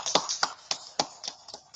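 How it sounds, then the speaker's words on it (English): A group claps their hands in a quick, steady rhythm of about seven sharp claps, close and moderately loud, with no talking. "let's go ahead and clap it up, clap it up, clap it up"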